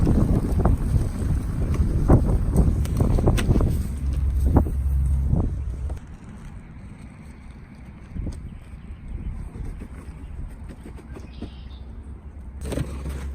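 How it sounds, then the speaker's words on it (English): Wind gusts outdoors buffet the microphone with low rumbling bursts, strong at first and then settling into a quieter, steady blowing. "It's windy today."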